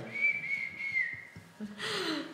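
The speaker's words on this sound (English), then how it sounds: "you hear a faint whistle from the other side of the wall" A person whistles a sustained, slightly wavering note from behind a wall, muffled and moderately faint, holding it for over a second before a burst of rustling noise takes over.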